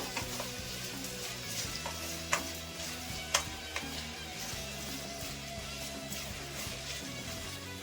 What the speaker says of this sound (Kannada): ಇವಾಗ ಟೊಮೆಟೊ ಮೆತ್ತಗಾಗಂಗೆ ಬಾಡಿಸ್ಕೋಬೇಕು.